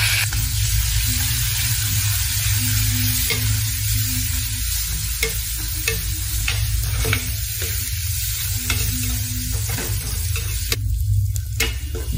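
Fried onion, tomato and green chili are stirred in a hot pan, with a steady close sizzle of frying and repeated scraping strokes of the spoon, no voices.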